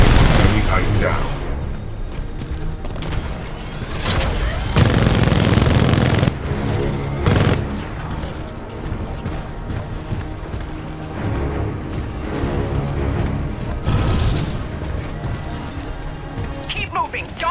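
Weapons firing at an enemy Titan in Titanfall 2, heavy bursts and booming blasts over rumbling mech combat, loud and chaotic, with talk in the game over parts of it.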